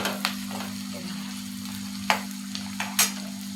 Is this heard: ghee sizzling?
yes